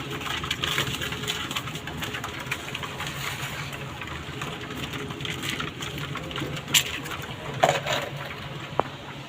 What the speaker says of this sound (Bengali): এই যে দেখতে পারতেছেন যে আমার কবুতরের বাচ্চা উপরে একজোড়া